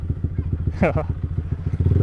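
A motorcycle fitted with a JB159 trioval exhaust idles with a steady low throbbing pulse, then revs briefly in a quick rising burst before settling back into its rhythmic idle, close and loud.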